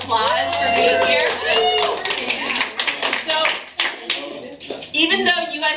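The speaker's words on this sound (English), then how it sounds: "Give yourselves a round of applause for being here." Party guests at an engagement party clap together, a dense burst of applause that mixes with overlapping chatter and voices nearby, fading into talk and then swelling briefly again near the end.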